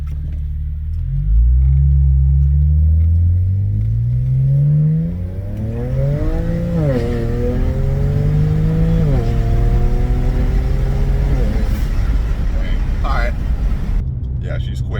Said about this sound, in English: All right, let's go for a quick little pull here.